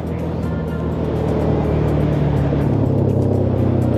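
A Suzuki LTZ 400 quad engine with a modified, louder exhaust runs close by in a steady, continuous rumble that holds its level for the whole stretch, with no speech over it.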